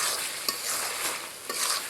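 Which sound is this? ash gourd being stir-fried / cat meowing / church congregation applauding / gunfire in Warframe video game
ash gourd being stir-fried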